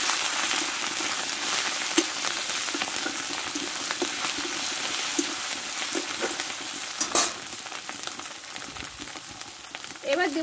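Onion with ginger paste and a spoonful of garlic paste sizzling steadily in a pan for chana dal, a continuous close frying hiss with occasional scrapes of stirring and no talk.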